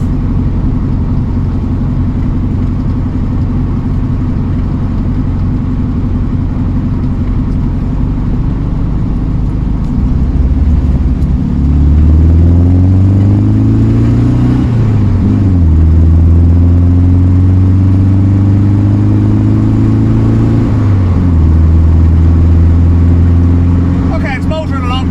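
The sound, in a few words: 1967 VW Beetle engine while driving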